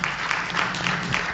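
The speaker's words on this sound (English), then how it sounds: "Please, can we clap for Otiasekan Rural Bank?" Audience at a radio high school debate clapping for a rural bank, a steady dense patter of many hands held at an even level through the moment with no talk over it.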